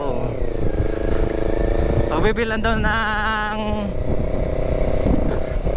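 A motorcycle runs along a boulevard with a steady engine drone throughout, a brief rising rev in the middle, and a person talking over it.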